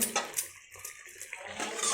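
Buttermilk is poured into a simmering curry gravy of onion, curry leaves, chili and tomato, a short, close, liquid splashing and gurgling with light clinks of a pot.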